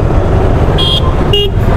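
Dense road traffic on a hot, busy highway in Tamil Nadu, a loud constant engine roar with two short high-pitched horn toots close by.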